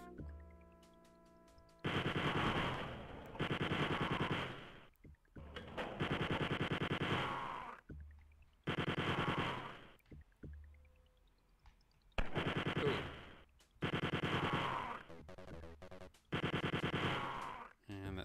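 Guards in the 1992 game Wolfenstein 3D open fire, giving loud bursts of rapid machine-gun and pistol shots in several long volleys, separated by short pauses filled with game sound effects.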